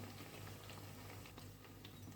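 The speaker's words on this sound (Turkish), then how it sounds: "Bir tarafını iyice kızarttıktan sonra çevirdim." Pişi dough fries in hot oil in a pan, giving a steady, soft, continuous sizzle and bubbling throughout.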